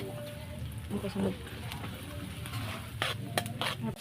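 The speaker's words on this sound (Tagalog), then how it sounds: "Sinabay ko na dyan sa gisa ng sibuyas, bawang, luya" Onion, garlic and ginger sauté for mixed seafood, a soft, close sizzle with occasional stirring scrapes and light clatter, and a faint voice in the background.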